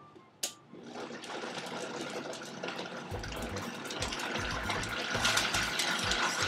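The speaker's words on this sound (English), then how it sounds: "So I'm going to put my top onto the Vitamix. It's going to get a little loud here." A Vitamix blender starts up after a sharp click and blends a lemon lavender berry smoothie, its motor roar building steadily louder and churning as the contents catch and spin; no one speaks.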